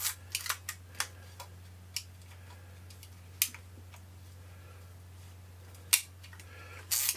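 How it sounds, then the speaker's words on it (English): Shutter firing on a Decora Super DigiNet film camera, rebadged as the Ilford Sportsman, heard as a few sharp mechanical clicks and handling taps close up over a steady low hum. "Shutter appears to fire."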